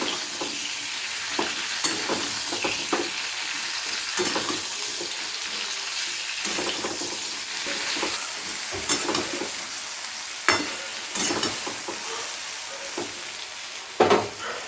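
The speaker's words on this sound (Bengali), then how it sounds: "এবার একটু ভালো করে ভেজে নেব" Drumstick pieces frying and being stirred in a pan, a steady close sizzle with frequent sharp scrapes and taps of the spoon breaking through.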